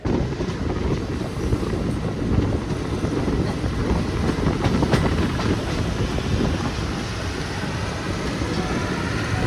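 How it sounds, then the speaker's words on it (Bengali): The Azimganj–Krishnanagar passenger train rolls along with a loud, continuous rumble and rattling wheel noise, heard from close on board with wind buffeting throughout. "ট্রেন ছেড়ে দিল"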